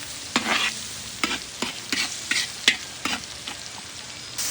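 Garlic and onion sautéing in a pan, with a steady sizzle under repeated bursts of stirring scrapes, about eight, close and fairly loud, with no talking.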